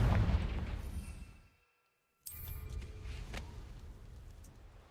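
Confringo fire-blast spell cast in Hogwarts Legacy: a booming explosive burst that fades to silence, then another sharp blast followed by a rumbling decay.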